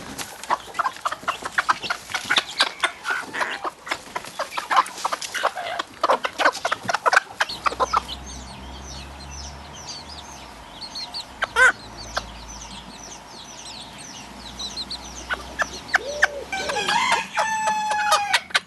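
Hens cluck steadily while chicks peep in high, rapid bursts, with a rooster crowing nearby; the barnyard chorus is close and continuous.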